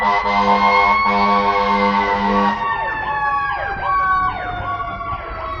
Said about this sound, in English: Yep, that's a fire truck.